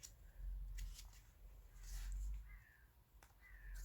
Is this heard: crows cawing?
yes